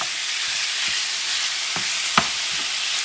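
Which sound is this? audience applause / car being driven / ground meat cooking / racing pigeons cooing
ground meat cooking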